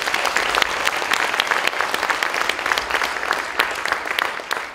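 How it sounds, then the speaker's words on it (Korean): A large congregation applauds together at a church praise night, steady dense clapping filling the space for several seconds with no speech over it. "하나님께 우리 영광의 박수를 드립니다"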